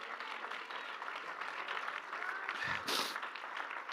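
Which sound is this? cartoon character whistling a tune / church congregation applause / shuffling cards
church congregation applause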